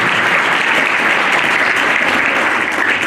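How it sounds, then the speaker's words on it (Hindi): Loud, steady applause from an audience welcoming guests onto the stage at a school Holi festival event, a dense continuous clapping that holds for about three seconds without a break. "जोरदार तालियों से उनका स्वागत करूंगा।"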